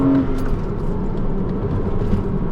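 Porsche Cayman S engine pulling hard in sport mode, heard from inside the car as a steady loud low rumble and whir that holds without a break.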